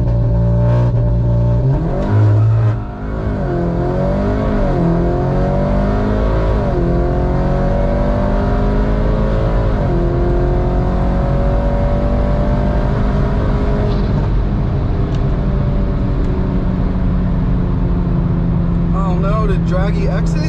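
An Audi 8Y S3 with a Gen4 EA888 engine accelerates hard on a speed run, its loud engine note rising steadily through the gears with a brief shift dip near the start, while a voice talks over it.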